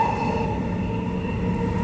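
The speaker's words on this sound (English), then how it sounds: "Got, yep, another train." A train on the Thornlie-Cockburn line rumbles past nearby, a steady, loud roar of wheels on rails with a sustained mechanical hum and no pauses.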